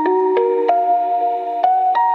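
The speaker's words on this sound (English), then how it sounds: "First sound we are going to make is a trap key inspired by classic preset from Omnisphere" A Serum synth trap key preset modeled on a classic Omnisphere patch plays a short melodic line of five clean, bell-like notes with sharp attacks and sustained sine-like tones, loud and isolated.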